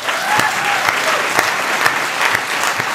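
Warm audience applause for a singer at Het Klankcafé, a live music show, with dense, steady clapping that holds at an even level throughout with no voices on top.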